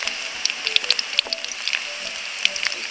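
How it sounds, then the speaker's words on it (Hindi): Dried red chillies and garlic sizzle in hot oil, a steady bright crackle dotted with sharp popping spatters, close and fairly loud with no voices. "तेल गर्म हो गया है, तो सबसे पहले मैं मिर्चा इसमें डाल देती हूँ, ये सूखी मिर्च है। और उसके बाद में इसमें मैं लहसुन भी डाल देती हूँ।"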